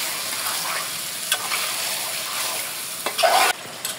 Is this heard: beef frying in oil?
yes